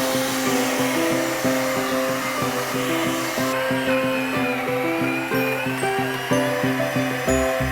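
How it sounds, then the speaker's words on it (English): An electric mincer grinding paua gives off a loud, steady motor whir with rhythmic, pulsing changes in pitch as the shellfish is fed through, continuous for the whole stretch with no talk. "Ended up upgrading to an electric one, and it's been absolutely awesome."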